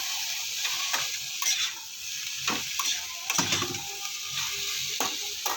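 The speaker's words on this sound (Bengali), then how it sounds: "ভেন্ডি ভাজাটা করে নিচ্ছে এখানে" Okra fries in a pan with a steady close sizzle, broken by intermittent scraping and stirring strokes of a utensil against the pan.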